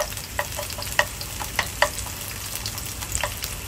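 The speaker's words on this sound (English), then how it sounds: "Sizzle away nicely." Half a chopped brown onion sizzles and fries steadily in a pan, with a few sharp crackles and pops standing out over the continuous hiss.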